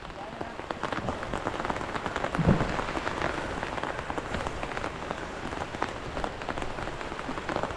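Steady rain falls in a dense, even hiss on surfaces outdoors during a string bean harvest, with faint voices and a brief thump partway through.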